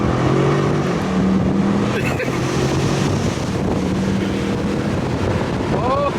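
A Nissan S15 running nitrous accelerates hard, a loud roaring engine heard from inside the car with heavy wind buffeting and rising engine tones near the end, voices briefly present.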